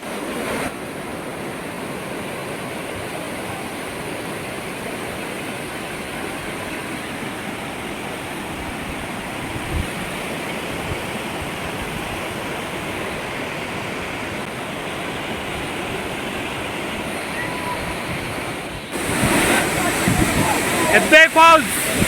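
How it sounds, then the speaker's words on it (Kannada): Roaring Hebbe Falls waterfall in Chikkamagaluru, a 551 ft drop, as steady broadband rushing water that holds constant, then grows louder and closer near the end. "ಇನ್ನೇನು ಈ ವಾಟರ್ ಫಾಲ್ಸ್ ಹತ್ರ ಬರ್ತಾ ಬರ್ತಾ ಅದ್ರ ವಾಟರ್ ಸೌಂಡ್ ನೋಡಿ"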